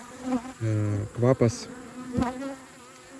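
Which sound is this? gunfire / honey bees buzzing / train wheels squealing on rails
honey bees buzzing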